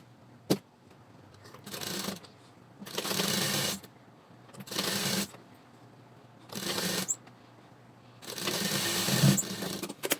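Sewing machine stitching a narrow folded fabric edge on a puff sleeve, running in five distinct bursts of steady whirring with short pauses between them, close and clear, with no talking.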